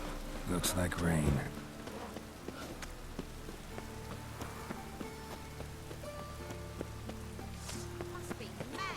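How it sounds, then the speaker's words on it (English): Rain in The Witcher 3 on PS4 Pro, a soft steady patter on surfaces continuing under game voices and music throughout. "Must be mad running around with this rain."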